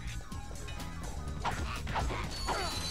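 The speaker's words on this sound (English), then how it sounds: "The dogs are fairly annoying." Dogs in the Ratchet and Clank video game bark in a few quick, fairly quiet yaps over a constant bed of game music and mechanical noise.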